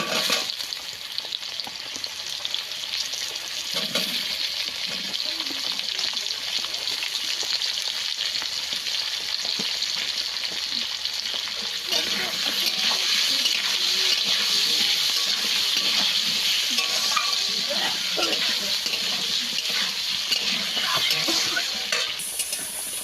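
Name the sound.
potatoes and onion frying in a pan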